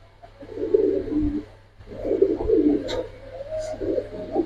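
Silver coloring pigeons coo in soft, repeated throaty phrases close by, with short pauses between bouts and a faint chirp or two overhead.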